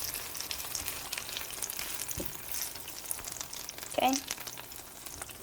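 Ramen fries in a pan with a quiet, steady sizzle and crackle throughout, and a person speaks briefly near the end.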